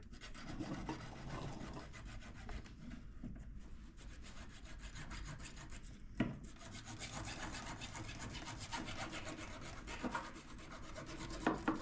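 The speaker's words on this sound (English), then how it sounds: "This is called a junior hacksaw." A junior hacksaw cuts through the sealed plastic end of a caulk tube with steady, rasping back-and-forth strokes that run continuously and close, with a sharp click partway through.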